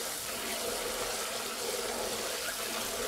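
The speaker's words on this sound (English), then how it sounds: "I do prefer to run some clear water on it. And then I just give it a good stir" Running tap water pours steadily onto brown rice being rinsed and stirred in a pot, a continuous close, even hiss of flowing water with no voices.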